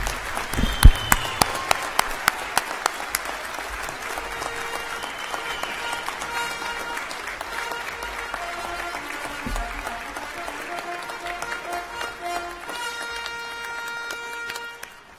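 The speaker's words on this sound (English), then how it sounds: "Let's have a big round of applause for all our graduates." At a university convocation in Fredericton, a crowd applauds the graduates with steady sustained clapping, while music plays along underneath.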